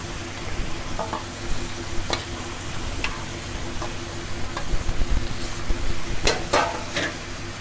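Chicken pieces and beans sizzling and frying in a hot pan, a steady loud crackle with intermittent scrapes and knocks of stirring throughout.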